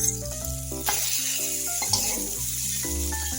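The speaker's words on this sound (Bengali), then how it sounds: "এটার সঙ্গে একটু ভাজা ভাজা করে নিই" Maggi noodles seasoned with ground pepper are stirred and fried in a pan, giving a continuous sizzle under steady background music, with a couple of light scraping knocks.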